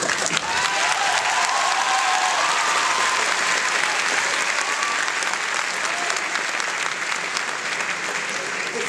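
Dense, sustained applause from a large audience fills a school graduation ceremony, even and unbroken for the whole stretch.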